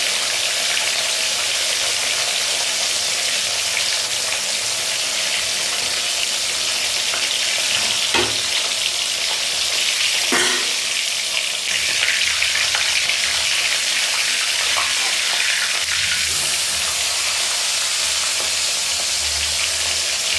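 Fresh country fish frying in hot oil in a kadhai, a loud, dense, steady sizzle that hardly varies, with a few brief knocks, close and without talking.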